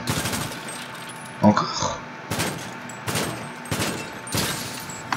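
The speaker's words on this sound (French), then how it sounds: "11 tirs avec toutes les armes de fusil d'attaque et c'est toujours résistant." Assault rifle fire in GTA V strikes an armored vehicle in bursts of sharp sharp cracks spread across the clip, with a brief voice speaking between the volleys.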